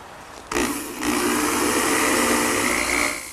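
A power drill bores through a wooden Shaker blanket chest top clamped over scrap wood, starting with a sharp bump then a sustained whirring grind that rises and holds steadily before easing off at the end.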